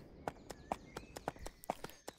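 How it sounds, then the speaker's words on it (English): A horse in the Attack on Titan VR video game clip-clops along at a steady walk, its hoofbeats soft and evenly spaced. "You can pull the horse anywhere you want by grabbing its reins and just pulling it."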